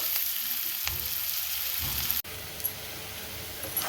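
Onions sauté in a hot pan for a Karnataka-style karabath, a steady close sizzle and fry with a few soft stirring scrapes, and no talking.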